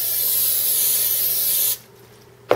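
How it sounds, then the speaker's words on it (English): Cooking spray from an aerosol can is sprayed down into a loaf pan for baking rainbow bread: one long, loud, steady hiss, then near-silence, and a short sharp knock right at the end. "you're going to take your loaf pan and you're going to spray it down really, really good with cooking spray"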